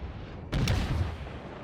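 A cruiser fires high-explosive shells in World of Warships with a single loud, booming salvo over a constant rumbling game background.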